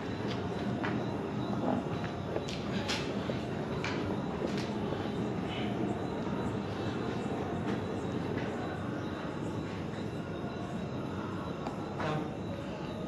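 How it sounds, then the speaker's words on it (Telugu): Train near a railway station by an abandoned factory, a faint distant rumble with scattered clanks and squeals carrying steadily through the background, with no voices. "అన్నా రైల్వే స్టేషన్ పక్కనే ఉంది."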